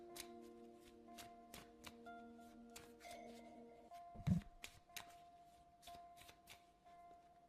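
Oracle cards shuffled by hand during a tarot reading: a quiet series of crisp card flicks and snaps, irregular but frequent, with one soft thump partway through, no talking.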